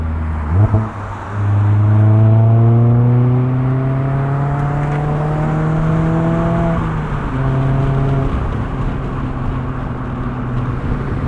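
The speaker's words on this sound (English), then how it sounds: "It's so much more fun when you can listen to this 4-cylinder engine sing." A modified 2019 Mazda MX-5 Miata four-cylinder engine with aftermarket exhaust revs steadily upward with a buzzy exhaust note, easing off briefly before climbing again, loud and close.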